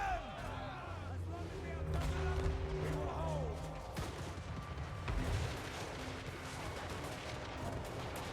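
Cannon fire against walls in a siege battle of a strategy video game, repeated booming blasts and crashing impacts amid layered battle noise, with someone talking over it.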